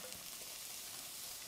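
Chopped onions and bell peppers sizzling after going into a hot Dutch oven, a dense, even frying hiss heard close and alone for a brief moment.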